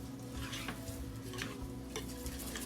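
Dry Lipton onion soup mix being stirred in a small bowl, soft gritty scraping strokes with a few light clinks of a utensil, faint and close, over a low steady kitchen hum, with no talk.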